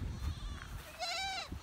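A goat gives a single wavering bleat, fairly close and clear, lasting about half a second, with quieter rustling and faint shuffling before it in a barn pen.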